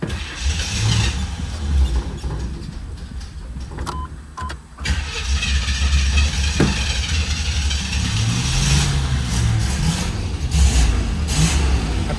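A 1987 Pontiac Firebird, sitting for 22 years and now running off its fuel tank, cranks and fires up, then keeps running with a loud, rough, slightly uneven engine note and occasional revs.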